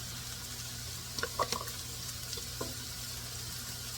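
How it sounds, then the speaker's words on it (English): Bell pepper and celery sauté in a pan, a soft, steady sizzle under a low hum, with a few brief clinks of a utensil stirring the vegetables. "your bell pepper and your celery haven't been sauteed long enough for it to be softened, saute it an extra minute"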